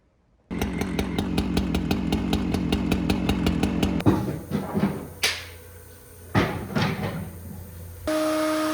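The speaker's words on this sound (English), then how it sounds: "On the Avid CNC, we got a big old ash slab, it looks like, getting surfaced." An Avid CNC router surfacing a large ash wood slab, a loud steady rhythmic cutting drone for about four seconds, followed by quieter intermittent shop clatter and bumps.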